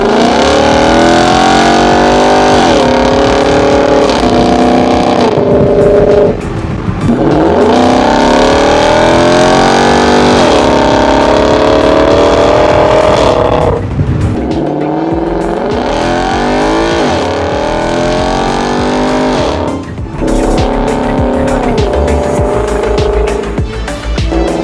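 A Ford Mustang Shelby GT500 in sport mode with its exhaust valves open accelerates hard through several gears, each roaring rise in pitch cut by a brief drop at the shift, loud and close throughout.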